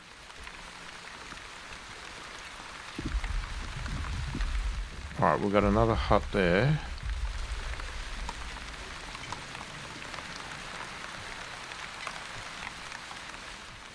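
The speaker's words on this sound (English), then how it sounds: "Okay, light rain." Light rain patters steadily in The Wandering Village, a soft continuous hiss with someone talking over it partway through.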